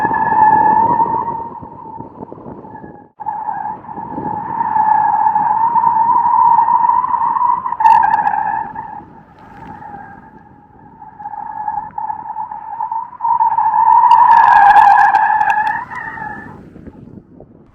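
Polestar 2 Dual Motor electric car doing donuts with ESC in sport mode, its tires skidding and squealing in a sustained wavering screech that swells and fades in long passes, with wind noise buffeting throughout.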